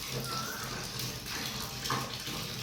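Water runs steadily out of a tap, a close continuous gushing hiss with a few small splashes and slight shifts in flow.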